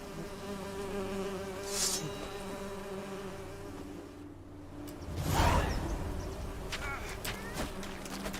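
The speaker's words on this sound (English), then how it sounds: "the bees buzzing" Bees buzz in The Witcher 3 game, a continuous droning hum with a louder swooshing swell partway through, layered with soft background game ambience.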